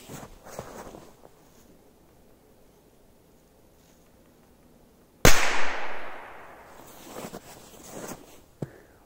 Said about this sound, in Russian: Вот такие были взрывы.